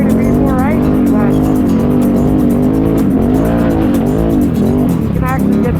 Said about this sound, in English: It's giving us traction, which is great. Shoot right into it, especially with these tires.